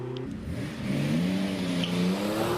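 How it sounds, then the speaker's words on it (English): A Porsche 911 RS race car in Golf livery climbs the Prescott speed hill climb, its engine note rising steadily as it accelerates hard and holds loud and close throughout, with no talking. "next up it will be the 911 RS, once again the Golf liveried machine, this time in the hands of 721 Chris Stone"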